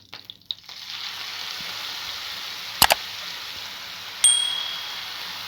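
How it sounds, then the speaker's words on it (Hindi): Grated carrots sizzle softly in desi ghee in a pan, a low steady frying hiss broken by a few sharp clinks of a utensil and a brief metallic ring near the end, with no talking. "घी में गाजर को भूनते हुए 5 मिनट हो गए हैं।"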